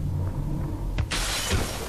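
Glass shatters in Call of Duty: Advanced Warfare, a sudden loud crash followed by a bright, sustained spray of breaking shards over a low game background hum, with no talking.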